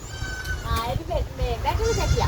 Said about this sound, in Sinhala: මේ බැටළු පැටියද?